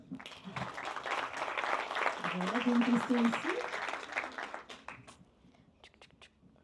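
Applause from a small audience at a French-language talk about books and business: a few seconds of moderate clapping with a voice speaking over it, fading out as a single speaker continues.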